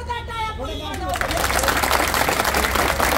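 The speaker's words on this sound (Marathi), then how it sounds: "आणि एकदा जोरदार टाळ्या पोलीस बांधवांसाठी." A student protest crowd breaks into loud, dense clapping for the police right after a voice calls out, the applause filling the rest of the moment.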